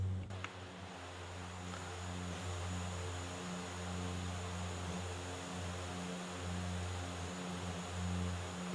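A FlyJSim Q4XP turboprop airliner in X-Plane 11 departs Ottawa with a steady, droning propeller hum and low engine tones that hold even and continuous, with no voices.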